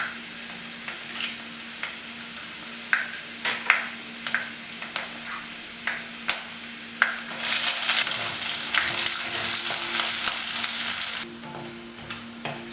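Dried red chilies and chopped shallots hit hot oil with browned coconut pieces for a Kerala prawn curry, giving a run of spaced scraping stirs. This is followed by a louder, steady frying sizzle that then drops back to a quiet background.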